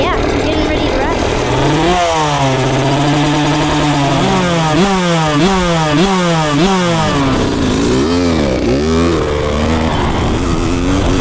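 A dirt bike engine revving loud and close, rising and falling in repeated surging pitch sweeps over a constant engine roar, with some voices mixed in.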